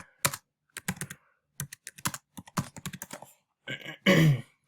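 Rapid keystrokes on a computer keyboard in short irregular bursts with brief pauses, ending in a louder cluster of clacks, close and clear with no voices.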